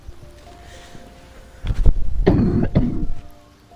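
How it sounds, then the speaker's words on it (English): A fantasy role-playing game character from a Dark Urge origin playthrough gives a few rough, close coughs and throat-clearing sounds in quick succession after a quiet stretch of faint ambient background. "I'm sick of this cough."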